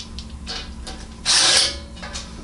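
Half-inch bolts on a Little Beast wheel kit being tightened with a power tool: quiet mechanical clicking, then one short, loud burst of driving and whirring close by before it settles.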